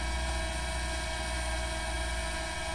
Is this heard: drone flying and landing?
yes